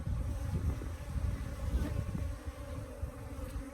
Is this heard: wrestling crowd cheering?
no